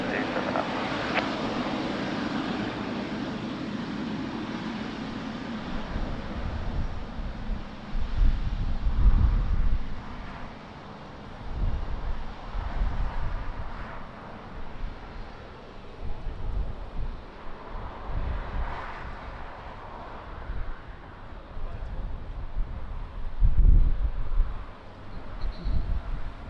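A fixed-wing airliner takes off from runway 20 at Lisbon Airport on a windy day, its engine roar building and fading in waves under heavy wind buffeting on the microphone, with distant radio chatter at times.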